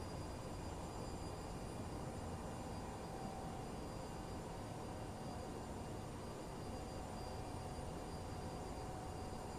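CRJ regional jet engines in Microsoft Flight Simulator 2020 while taxiing, a steady uniform whine and rumble holding level throughout with no distinct change, no talking.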